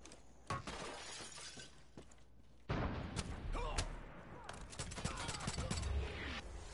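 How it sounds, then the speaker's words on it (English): Gunfire from non-player characters in Far Cry 5: sharp, cracking shots and shattering impacts break out in irregular bursts, loud and close, over a dense game soundscape with faint voices now and then. "Who's shooting at me? Freaking NPCs."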